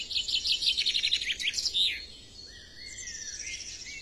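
A goldfinch, a species known for its fine song, sings a rapid series of bright, clear twittering notes that slide into a longer sweeping whistle, close and fairly loud against a quiet background.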